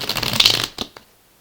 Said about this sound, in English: we are almost done shuffling here